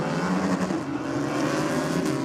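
Harley-Davidson drag racing motorcycle launching hard off the start line onto its wheelie bars, a loud, sustained engine roar at close range with no pause throughout.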